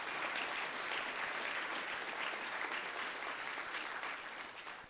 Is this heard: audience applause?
yes